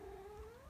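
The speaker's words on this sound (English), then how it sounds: "That's my cat if you heard him right now." A cat gives a single faint, drawn-out meow with a slowly shifting pitch, heard alone and distant against low background hum.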